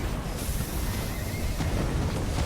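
Horses neigh in a video game battle, with a whinny rising out of dense, loud mixed game noise and rumbling impacts, heard briefly amid the clamor.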